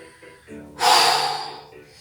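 A sharp, forceful exhale during an abdominal and glute workout in a rural fitness class. A single breathy rush of air rises abruptly, then fades over about a second, close and moderately loud.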